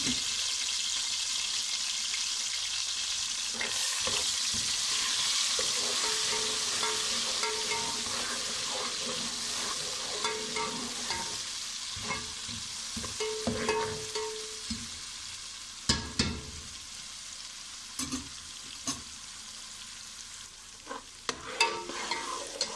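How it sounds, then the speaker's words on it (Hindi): Ginger and garlic fry in a pan for a kadhi, a continuous loud sizzle with repeated stirring and scraping strokes that grow more clattery toward the end, close up and with no speech. "लहसुन अदरक फ्राई हो चुका है।"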